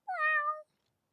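A cat gives one clear, close meow, a single rising and steady tonal call lasting about half a second, followed by silence.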